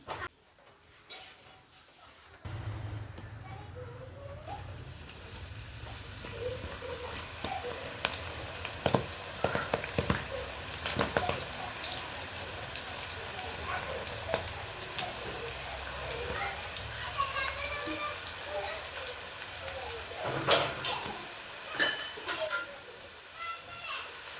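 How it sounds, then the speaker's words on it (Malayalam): Turmeric-spiced dough fries in hot oil in an uruli pan, giving a steady close-up sizzle with scattered crackles and pops over about twenty seconds, with faint voices now and then. "ഉരുളിച്ചട്ടിൽ നമ്മൾ ഓയിൽ ഒഴിച്ചത് അത് ചൂടായിട്ട് വേണം ഇങ്ങനെ ഇട്ട് കൊടുക്കാൻ"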